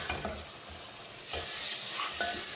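Beef chunks frying in a pan for a stew, sizzling steadily while a spoon stirs and scrapes them in a few distinct strokes, close and moderately loud, with no speech.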